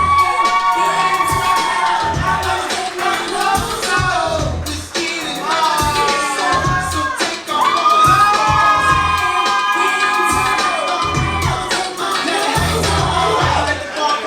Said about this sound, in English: let's have a huge round of applause for the flower man, Ryan.